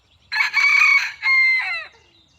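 A rooster crows once nearby, a loud two-part cock-a-doodle-doo call that rises and then trails off, heard alone against a quiet background.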